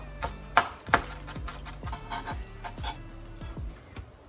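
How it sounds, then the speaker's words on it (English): Knife finely chopping small red serrano chilies on a board, a run of sharp, evenly spaced chops close up, a few louder strikes near the start, no talk. "I'm going to finely chop these red chilies"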